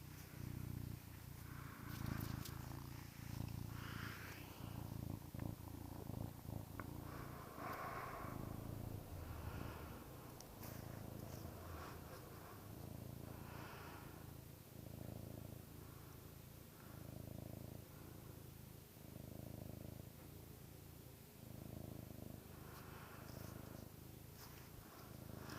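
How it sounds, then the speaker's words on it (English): Storm, a pet cat, purring steadily and close by in a low continuous rumble with rhythmic breathing swells, lasting throughout with faint rustling. "Sorry guys about the purring."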